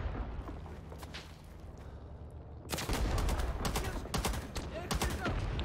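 Bursts of DP-28 light machine gun fire ring out in Rising Storm 2: Talvisota, a Winter War game, loud and rapid after a quieter start of low rumbling game ambience.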